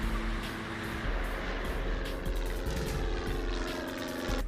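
A CASA aircraft's engine drones steadily at an airstrip, a continuous loud propeller hum with a low rumble and no talk over it.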